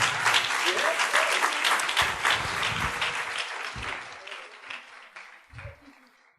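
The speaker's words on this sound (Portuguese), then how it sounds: "Aplauda-se a si mesmo." Audience applause at a faith seminar in McAllen, Texas, a steady wash of many hands clapping that gradually fades, with brief voices or thumps mixed in.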